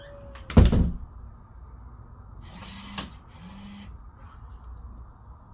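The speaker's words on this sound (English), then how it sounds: "my smart door closes" A Zemismart smart-switch-controlled door swings shut with one loud thunk near the start, followed by quieter mechanical whirring and faint clicks in an otherwise calm room.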